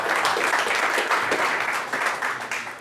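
Audience applause at a startup event at Google's hub, a brisk crowd of clapping hands sustained evenly and fairly close.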